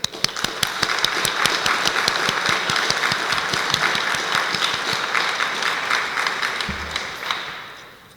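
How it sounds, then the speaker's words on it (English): Sustained audience applause fills a nursing pinning ceremony hall, a dense, steady wash of many hands clapping with a few sharper claps standing out, tapering slightly near the end. "join us in offering a heartfelt round of applause"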